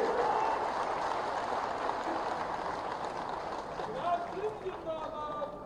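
Crowd applause at a political rally, a broad steady roar of clapping filling the whole stretch at moderate level, with faint voices and whistles rising near the end.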